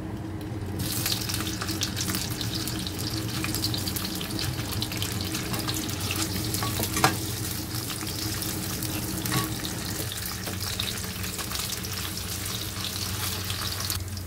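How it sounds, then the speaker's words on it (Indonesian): Sausages fry in hot oil while a home cook prepares stir-fried water spinach with sausage. A loud, continuous crackling sizzle holds steady throughout, with a small pop midway and no voices. "Kita goreng sosisnya dulu"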